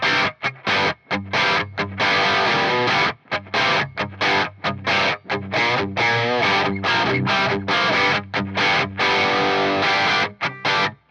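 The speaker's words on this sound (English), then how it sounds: "If you want more of a sort of traditional Marshall kind of thing, I would use the lead 1 red mode." A distorted electric guitar plays through a Marshall DSL50 amp in lead 1 red mode, chugging out loud, choppy rhythmic chords with sharp stops and gaps between bursts, no voices.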